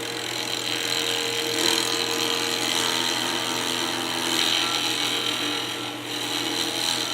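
Lathe turning a Fordite pen blank at about 2,700 RPM, a continuous scraping, rasping cut with gentle swells in loudness, close up and without talk.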